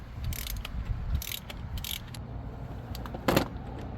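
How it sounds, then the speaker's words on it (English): A ratchet fitted with a Torx bit works a small coolant plug loose on a Dodge Challenger 5.7 HEMI during a thermostat change. It gives a few short bursts of close, dry ratcheting clicks over a low background hum, with no talking. "You need a Torx bit to unscrew this little plug right here."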